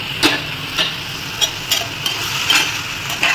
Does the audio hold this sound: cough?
no